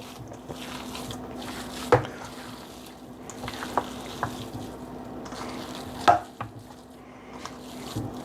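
Meatloaf mixture being worked by hand in a bowl, a soft squishing and mashing with occasional sharper wet slaps, fairly quiet and close, with no talking.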